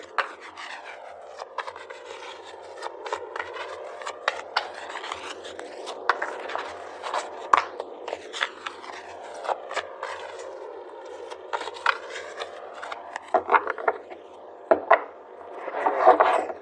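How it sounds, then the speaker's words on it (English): A deck of tarot cards is shuffled at close range with a long run of papery rubbing and sliding, broken by sharp flicks and taps, growing busier near the end, with no talk. "I felt another shuffle was needed."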